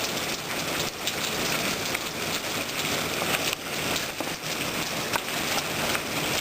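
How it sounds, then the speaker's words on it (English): Hail falling during a March hailstorm in Arizona, a dense steady clatter of stones striking surfaces, continuous and fairly close, with no voices. "That was a lot of hail."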